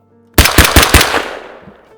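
A suppressed Ensio Firearms KAR-21 rifle in .223 Remington fires four quick, loud, close shots in a rapid even rhythm, followed by a fading echo and a faint fifth report.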